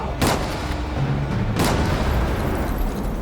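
Two sharp, loud gunshots from a dramatized 1946 Battle of Alcatraz shootout ring out about a second apart, each followed by echoing rumble, with no talking.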